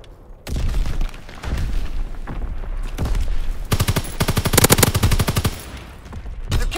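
Machine-gun fire from a strafing run in a video game, with repeated loud, rapid bursts of shots and booming impacts that build into a dense volley near the middle before tapering off.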